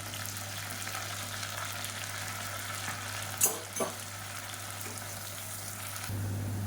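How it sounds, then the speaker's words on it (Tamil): Long-sliced onions go into hot ghee and oil in a cooker and fry with a steady, gentle sizzle, broken by a couple of brief clinks of a utensil, heard up close with no talking. "எண்ணெய் நல்லா சூடாயிருச்சு. 125 கிராம் அளவுக்கு பெரிய வெங்காயம் நீளமாக நறுக்கினதை சேர்த்துக்கலாம்."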